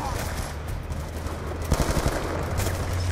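Gunfire in the Call of Duty Black Ops 2 campaign, a rapid burst of automatic shots over steady loud in-game background noise.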